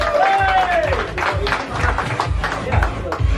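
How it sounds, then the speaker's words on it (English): Audience applause and crowd noise during a comparison of live sound speakers, steady clapping throughout with a voice heard briefly at the start. "give me a nice round of applause"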